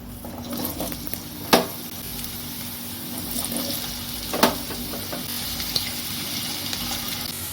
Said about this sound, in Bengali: তেলটা গরম হয়ে গেছে লাল করে ভেজে নেবো